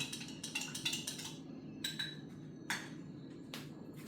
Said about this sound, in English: now I'm going to give my slurry a little bit of a stir